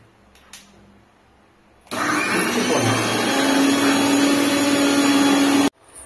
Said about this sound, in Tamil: வேப்பலையை தூக்கி மிக்சியில் வச்சு நம்ம கலந்த லெமன் தேங்காய் எண்ணெய் சேர்த்த மிக்சரை வந்து இதில் ஊற்றிட்டு